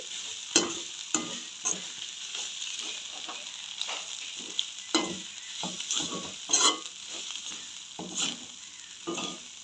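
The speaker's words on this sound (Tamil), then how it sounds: "பாருங்க நல்லா முட்டையும் வந்து நல்லா வதங்கி வருது" Fish roe sautéing in a pan with turmeric for a Jaffna-style fish curry: steady close sizzling under frequent rhythmic spatula scrapes and taps, loud and busy, with no voices.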